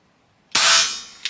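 A single FX Impact air rifle shot rings out close by as one sharp, loud crack with a bright decaying tail, followed by the faint start of another impact at the very end.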